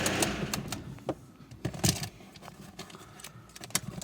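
An Opel Frontera diesel engine, which had trouble starting after a part replacement, cranks and catches into a rough, rapid clatter with sharp mechanical clicks, heard close and steady with no talking.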